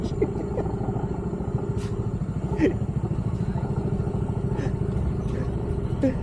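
A large motorcycle engine chugs with a steady, rhythmic low thrum close by near Hagdan-Hagdan Falls, Mauban, with some light clatter and faint voices over it.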